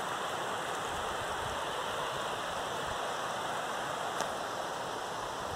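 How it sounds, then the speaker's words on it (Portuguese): A waterfall and small stream along a rural road near São Bento do Sapucaí give a steady broadband rush of flowing water, constant and moderately distant, with no voices. "Ali uma cachoeira,"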